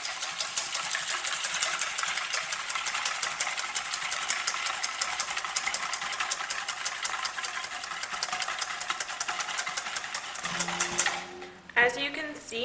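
An electric mixer whips bean water with sugar into froth, a steady buzzing whir running continuously and fairly close, then stopping near the end as a voice comes in.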